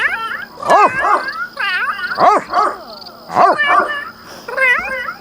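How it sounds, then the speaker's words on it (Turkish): A dog in the video game The Sims 3 barks repeatedly in short bursts, loud and close, with yelping, whining tones between barks and a faint steady hum behind. "Şu köpek çok havlıyor ya."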